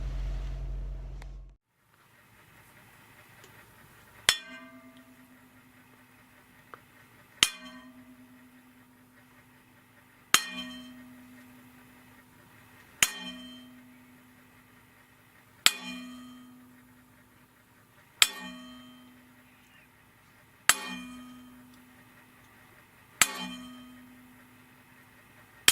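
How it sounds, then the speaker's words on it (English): A single bell tolls ten times with evenly spaced, resonant clangs, each ringing out and decaying before the next strike. The space is otherwise quiet, with a low hum between tolls. "The bell tolls 10 times once again."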